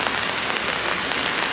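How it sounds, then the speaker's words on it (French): Steady rain falls on a street in Annecy in November, a dense, continuous hiss of drops spattering the pavement with no voices over it. "Il pleut encore, hein, comme vous pouvez le constater."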